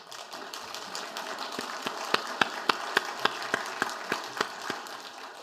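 During a church testimony service, a congregation claps along in a steady, even rhythm. Crisp, regularly spaced claps ring out over a soft background hum across several seconds.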